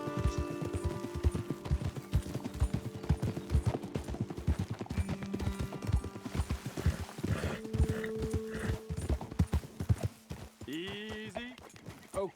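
Rapid hoofbeats clatter in a steady galloping rhythm alongside music in Red Dead Redemption 2, then slow near the end as a horse whinnies and snorts close by.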